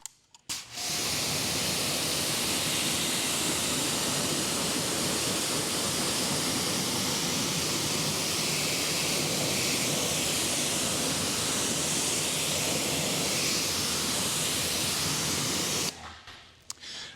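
A hose sprays water steadily over a car wheel to rinse off wheel cleaner, a dense, even hiss that starts abruptly, runs unbroken for about fifteen seconds and then cuts off.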